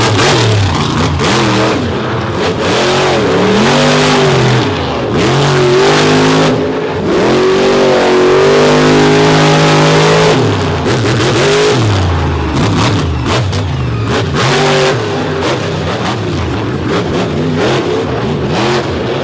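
Racing trucks rev hard at Lake Erie, loud and close, their engines climbing and dropping through repeated throttle sweeps as they pass one after another.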